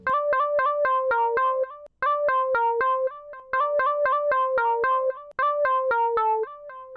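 A bright, clean synth lead plays a short repeating melody of crisp, evenly spaced notes with brief pauses between phrases.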